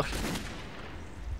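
A gunshot in the first-person shooter Metro 2033, a single muffled blast at the start followed by a low, fading rumble.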